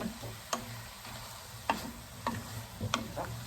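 Glass noodles with bacon and mixed vegetables being stirred in a pan, with scattered utensil clicks and scrapes over a low, steady sizzle.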